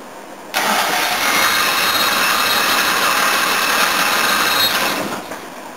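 A Yamaha XJ motorcycle with an overheated engine fires up abruptly and settles into a steady, loud, even running note that holds for several seconds before easing off slightly, with no talking.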